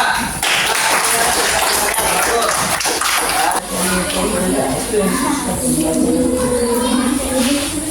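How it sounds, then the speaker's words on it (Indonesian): Students in a classroom applaud a student group, a brief burst of clapping and taps mixed with children's voices and chatter, fairly close and loud. "tepuk tangan buat kelompok 2"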